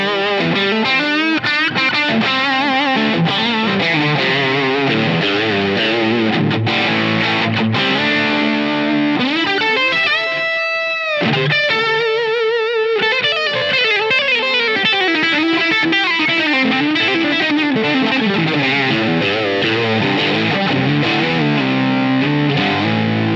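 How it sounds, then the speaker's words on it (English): Heavily distorted electric guitar through a Line 6 Helix amp model with drive at maximum, playing loud, sustained chords and riffs with a thick, saturated tone, alone, with a brief pause midway. "There's something I really like about the distortion quality of this amp. Let's crank it up to 10 on the drive."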